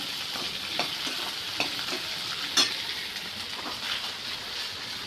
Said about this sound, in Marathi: कांद्याला तेलामध्ये फ्राय करून घ्यायचं आहे गॅस स्लो ठेवला